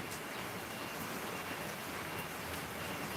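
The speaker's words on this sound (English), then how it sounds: "if y'all can't hear that raining behind me" Steady rain falls outdoors in Overland Park, Kansas, a dense continuous hiss filling the whole moment at an even, moderate level with no voices.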